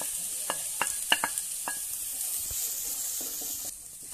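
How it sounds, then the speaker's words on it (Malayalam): Grated coconut frying with onion and chillies for Kerala-style chicken thoran gives a constant hissing sizzle, broken by a few sharp scraping stirs early on and softer clinks near the end. "അതിനെ അതിലോട്ട് അരമുറി തേങ്ങ നമുക്ക് ആഡ് ചെയ്യാം."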